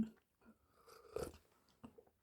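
Crisp cucumber being chewed, with a few separate crunchy bites heard up close and fairly quiet, spread over a couple of seconds of eating and no talking.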